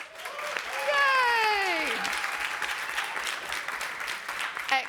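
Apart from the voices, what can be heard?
audience applause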